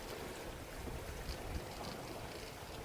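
Water rushes steadily past the hull of a Grand Soleil 45 sailing yacht under way at sea, a continuous close hiss of wash and wind with no voices.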